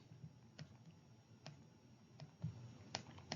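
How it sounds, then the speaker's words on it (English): Several sharp, isolated clicks of keys being pressed on a financial calculator, spaced roughly a second apart, quiet and close with a low background hum and no talking. "the keys on your financial calculator that you'll be using"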